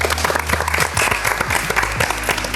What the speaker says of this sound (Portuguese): palmas pra todos, né?